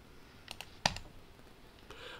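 A few crisp computer mouse clicks, including a right click, made while working in stress analysis software for a roller assembly bracket; one sharp click stands out among fainter taps, with no talking.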